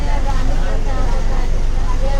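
An APSRTC bus running on the Tenali to Kothurulanka route gives a loud, steady engine rumble and road roar that fills the clip, with a murmur of passenger voices in the background.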